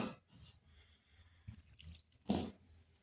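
Water dribbled a little at a time into dough for an egg mughlai paratha, heard as a few soft drips and splashes with a sharper wet slosh near the end, close and quiet.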